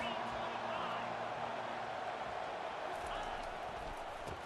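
A wide, steady roar from the stands at an Alabama vs Ole Miss college football game, with a voice talking over the crowd noise.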